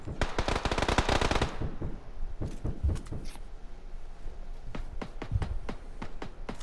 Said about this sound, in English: there's a lot of shots going on